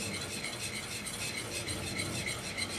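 A béchamel cream sauce thickening in a pan is stirred and scraped with a utensil, making soft continuous scraping and faint bubbling close by, with no talking.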